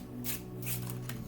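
Tarot cards are shuffled close by in two or three quick riffling bursts, crisp and papery, over a soft steady hum.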